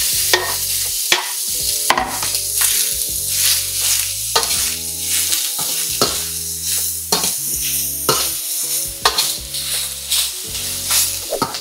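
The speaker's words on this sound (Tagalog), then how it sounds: "Lulutuin lang natin tong pork belly sa sarili niyang mantika." Pork belly frying in its own rendered fat for adobong sitaw, loud crackling sizzle with repeated metal spatula scrapes and clanks against the pan in an uneven rhythm, no speech.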